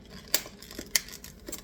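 Scissors snip something off while raspberry muffins are being made, giving two sharp, close cuts with faint softer clicks between them in a quiet kitchen.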